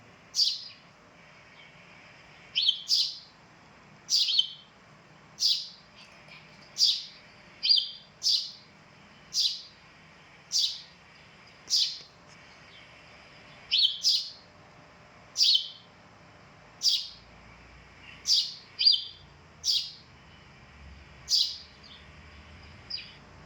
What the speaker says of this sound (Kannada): ಅದು ತನ್ನ ಜಾತಿ ಪಕ್ಷಿ ಕೂಗಿದ್ದಾಗ ಇದ್ದದ್ದು ರಿಯಾಕ್ಷನ್ ನೋಡಿ